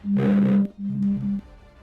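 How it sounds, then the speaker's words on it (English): Two bursts of overlapping electronic beeps from many buttons hit at once in the game Foundry, a dense buzzing tone cluster, the first louder and longer than the second. "beep beep sounds at once"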